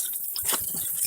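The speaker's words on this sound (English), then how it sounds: "you can probably hear the water right now" Steady hissing spray of water from a split pipe fitting on a water main, a broad, noisy wash, continuous and fairly close, with faint gurgling underneath.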